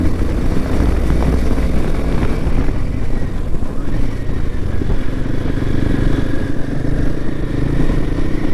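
A steady, rumbling Royal Enfield Himalayan 450 motorcycle engine drones continuously at close range, with wind noise and slight shifts in pitch as it rides along.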